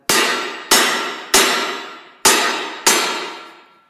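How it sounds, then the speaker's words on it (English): Hot steel pipe is upset with a hammer on an anvil, five sharp ringing clangs at an uneven pace, each decaying into a metallic ring before the next strike. "now before you do the upsetting, just lay it over your anvil and make sure it's straight"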